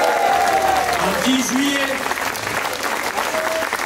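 Crowd applause at a street rally of the Résistance before a Macron speech, steady clapping with a voice talking over it throughout.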